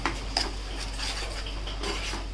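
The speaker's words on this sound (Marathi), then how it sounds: "हे आपण हिरवं वाटण करून घेतलेलं आहे ते आपण ह्यामध्ये आता मिक्स करून घेऊ" Green masala paste is stirred into onions in a pan, with a spoon scraping and clinking against the metal in soft, steady strokes, close by and fairly quiet.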